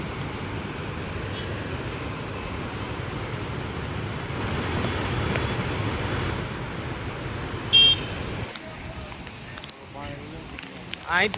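Strong floodwater rushing in Junagadh, a continuous loud roaring wash that drops away near the end, with people talking nearby.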